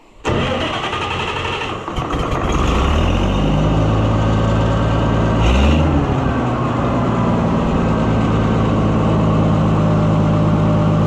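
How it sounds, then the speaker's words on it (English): Oliver 1655 tractor engine turning over and catching, then settling into a loud, steady, throbbing diesel-like run with a slightly uneven, dieseling character, close by and continuous. "see, a little dieseling, so I think the timing's not just quite perfect"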